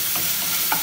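A spice mix stirs and fries in a pan, a brief soft sizzle with scraping stir strokes, close and steady.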